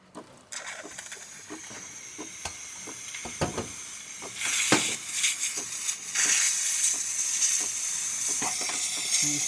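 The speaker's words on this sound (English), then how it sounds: "And now let's test the steamer." The steam wand of a DeLonghi espresso machine, just back from a full tune-up, clicks and sputters, then releases a loud, continuous hiss that builds and holds, close and with no talk over it.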